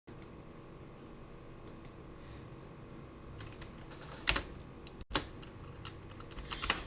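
Typing on a computer keyboard with an English layout, soft irregular key clicks with a few sharper taps and a louder burst near the end, close and alone without speech.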